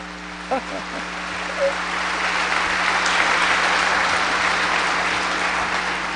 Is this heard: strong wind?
no